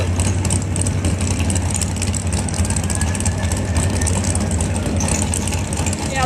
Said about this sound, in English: Good looking Camaro with a rowdy sound to it.